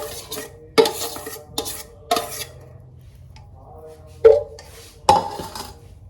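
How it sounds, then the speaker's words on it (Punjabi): A metal spoon stirs hot potatoes into an onion, green chili and tomato mixture in a pan, giving a few separate scraping clinks against the cookware spread across several seconds, with quiet gaps between them. "ਹੁਣ ਵਿੱਚ ਆਲੂ ਪਾ ਦੇਣੇ ਆ ਆਲੂ ਵੀ ਅਜੇ ਤੱਤੇ ਬਹੁਤ ਆ"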